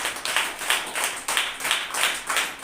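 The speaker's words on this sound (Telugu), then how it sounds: "చప్పట్లు కొట్టి ప్రారంభంగా." A church congregation at Sunday service claps hands together in a steady rhythmic beat, about seven even pulses, moderately loud with a roomy crowd quality.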